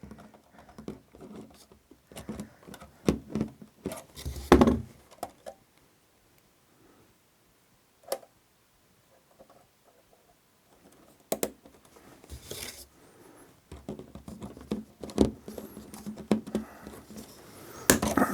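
Heavy wire cutters bite through spring steel wire while Blue Point switch machines are installed. Sharp, close snips and snaps come in scattered bursts with light handling clatter and quiet gaps between them.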